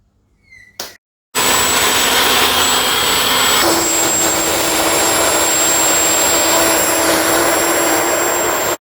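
A homemade 12/118 gas turbine engine runs at steady high power, a loud continuous jet roar with a piercing high whine held throughout, after a brief quiet start and a short spool-up.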